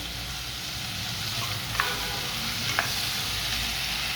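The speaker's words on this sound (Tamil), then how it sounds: "கத்திரிக்காவை சேர்த்துட்டு இந்த எண்ணெயில் நம்ம ஒரு 2 நிமிஷம் இப்படியே வதக்கி விடுவோம்" Brinjal pieces sauté in hot oil in a pan, giving a steady, close sizzle broken by two brief spatula scrapes. No voices.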